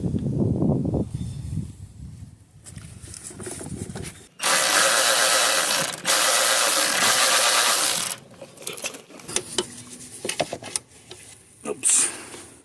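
A ratchet works a 10mm nut on the intake manifold of a Ford F150 during engine removal, giving bursts of clicking and a long loud mechanical whirr near the mic, with talking at the start.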